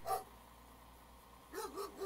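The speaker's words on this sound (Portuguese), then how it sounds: "o cachorro viu o caminhão" A dog barks in the Euro Truck Simulator Promods map video game, one sharp bark at the start, then a pause and a quick pair of barks near the end, fairly close and clear.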